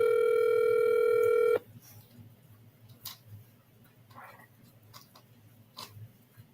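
A telephone call's ringing tone sounds as one steady electronic tone for about a second and a half, then cuts off, leaving quiet room noise with faint clicks.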